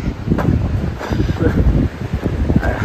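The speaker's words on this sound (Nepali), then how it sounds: "डेन्जर हावा चलिरहेको" Loud, gusty wind buffets the microphone beside a road, with a continuous low roar and rustling bursts throughout.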